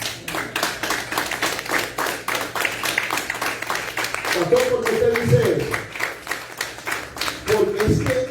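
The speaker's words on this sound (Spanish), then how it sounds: "Den un aplauso al Señor." A church congregation claps in a brisk, even rhythm through a worship service while someone speaks over it and sustained tones swell beneath.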